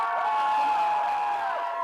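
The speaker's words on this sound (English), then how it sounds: "So whoever you think won, you cheer the loudest for." A crowd of spectators cheering and whooping for a contest winner, a continuous high, shrill burst of voices that holds loud throughout.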